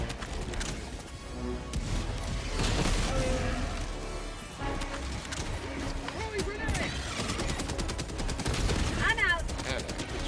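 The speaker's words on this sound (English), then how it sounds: "Get on the Machine gun turret there." Rapid automatic fire from a machine gun turret in the video game Helldivers 2, dense bursts and impacts throughout, with voices talking over the shooting.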